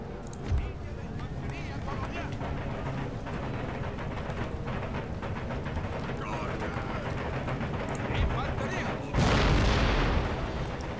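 Foot artillery firing on a battlefield in Empire Total War, a low rumbling boom landing near the end amid constant battle noise of scattered musket shots, with a voice talking throughout.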